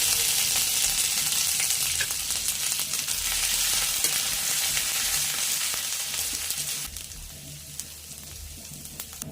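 Dry red chillies, mustard seeds and chopped ginger frying in hot oil, giving a loud, steady crackling sizzle that eases slightly near the end, with no talking.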